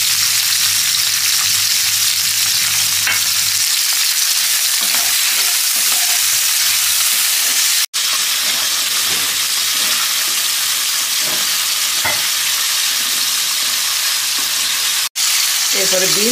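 Salted cauliflower stir-fries in a pan for chilli chicken, producing loud, continuous close sizzling with scraping stirs throughout.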